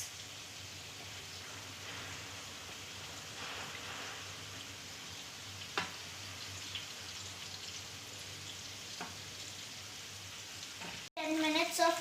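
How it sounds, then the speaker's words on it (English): Oil sizzles and crackles steadily at a moderate level as chicken deep fries, a continuous frying hiss, with a brief clatter near the end. "Now let's put the chicken into the deep frying oil."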